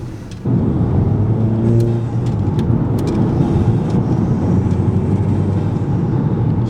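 A Honda S2000 engine with a resonator-delete exhaust rumbles loudly close by with a deep, throaty note, swelling briefly as it revs, then holding a steady drone.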